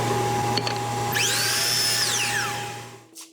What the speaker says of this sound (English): I then use my miter saw to cut the angles off of each.